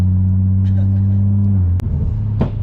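A modified 600bhp BMW M140i engine drones loudly and steadily up close. Its tone shifts abruptly after a sharp knock partway through, followed by rougher, uneven rumbling.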